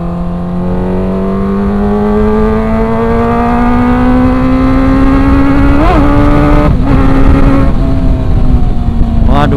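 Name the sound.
Kawasaki ZX-25R motorcycle engine revving on a test ride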